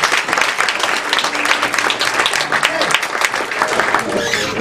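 An improv comedy audience at Stevie Ray's claps loudly and steadily, a dense burst of hand claps from a full room lasting several seconds with a few voices mixed in.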